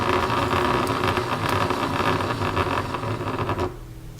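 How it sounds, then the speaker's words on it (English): A small continuous-rotation servo motor, converted to a speed controller, whirs steadily with a dense buzzing hum, close and constant, then drops away near the end as the motor stops. "reach in there with a small screwdriver and slowly adjust it until the motor stops"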